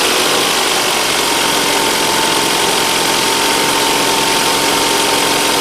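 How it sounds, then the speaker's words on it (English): A cold car engine idles high during testing with an automotive tester, giving a loud, steady, continuous drone with no breaks. "we'll start the engine. It's a cold engine, so the idle will be high."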